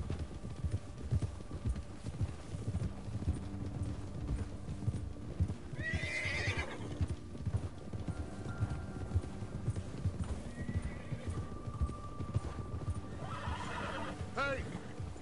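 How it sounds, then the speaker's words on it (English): Horse hooves pound in a fast, continuous rhythm in Red Dead Redemption 2, with two loud neighs breaking through, as riders talk over the galloping. "Giddy up, horsey."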